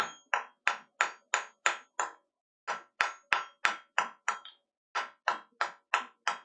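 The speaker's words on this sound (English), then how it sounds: "2-pound Andrew Larson Crossbeam. Favorite one to use." A 2-pound Andrew Larson cross-peen hammer strikes with loud, close, ringing blows, evenly spaced in three quick runs separated by brief pauses.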